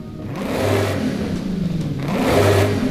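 A car fitted with a sport exhaust in Forza Horizon revs twice, the engine note climbing, falling back and rising again, loud and close with no voices over it.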